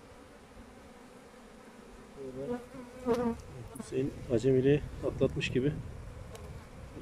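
Honey bees buzz steadily around an opened beehive during an inspection, a close, continuous drone with a trapped bee adding sharper bursts. Someone talks in Turkish over it, his voice rising above the hum midway.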